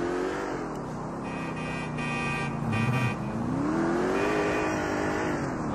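A car drives through the open world of GTA 4 on PS3, its engine droning and revving up and down steadily with occasional tire noise, loud and continuous with no talk.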